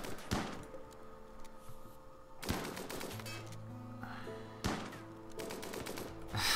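Colonists' gunfire against an insect hive in the Rimworld video game, with rapid bursts of shots and sharp impact cracks repeating in several waves across the stretch, fairly loud and alone.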